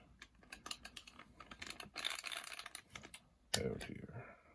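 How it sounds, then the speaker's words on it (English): Fingers tapping keys on a computer keyboard while a Commodore 64 cartridge game is tried, with scattered clicks, a denser flurry of typing and a louder clack near the end. "Maybe I need to hit things on the keyboard that I can't hit."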